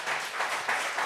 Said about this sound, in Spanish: Dale fuerte aplauso a Cristo